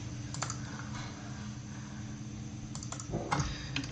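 Keystrokes on a computer keyboard while setting up code for an HC-SR04 ultrasonic sensor on an Arduino, a few scattered clicks and a short burst near the end over a steady low hum.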